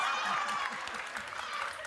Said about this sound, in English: She's clapping when we're talking about Trump